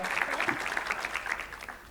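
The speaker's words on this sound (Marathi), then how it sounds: "210 माणसं आली आहेत, पण 2000च्या टाळ्या आहेत तुमच्याकडे." Lecture hall audience in Panvel clapping together, a busy, fairly even wash of many hands that softens slightly toward the end, heard without talk on top.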